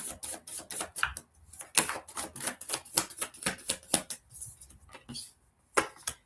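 Tarot cards being shuffled up close, a fast run of crisp clicking and riffling taps with short pauses between bursts, fairly quiet, no voices.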